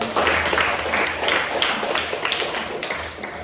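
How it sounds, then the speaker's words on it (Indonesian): Classroom applause from a group of students, a steady burst of clapping that runs close and fairly loud for a few seconds with faint voices mixed in. "Berikan tepuk tangan dulu"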